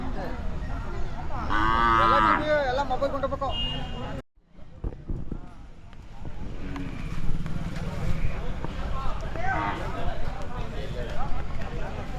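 A Hallikar bullock at a village cattle fair moos loudly and close, a long drawn-out low call, then people talk over farmyard noise.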